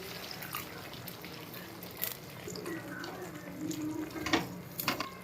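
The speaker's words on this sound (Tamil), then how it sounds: "கொஞ்சமாக தண்ணி ஊற்றிக்கலாம்." Water poured into chicken gravy in a pan gives a steady splashing trickle with faint bubbling and clinks, rising slightly toward the end.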